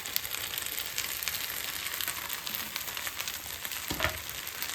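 Vegetables and Maggi noodles sizzle steadily in a pan, a continuous close hiss of frying with a brief clatter of stirring near the end and no voices.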